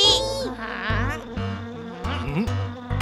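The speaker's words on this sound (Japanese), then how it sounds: "蚊がいる。" Cartoon mosquito buzzing in a children's animated show, a whiny wavering drone that swoops up and down in pitch, loud and close, broken by short pauses and a few brief tonal accents.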